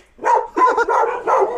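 A young male Taihang dog puppy barks in a quick series of three to four high, yappy barks, close and loud, with no talk over them.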